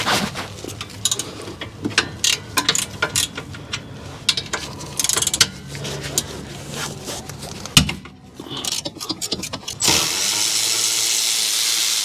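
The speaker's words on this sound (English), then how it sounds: "we need to loosen and remove these two caliper bracket bolts" A ratchet and 17mm socket loosen the rear caliper bracket bolts on a Honda Pilot, giving irregular bursts of close clicking and metallic rattling, followed by a steady hiss in the last couple of seconds.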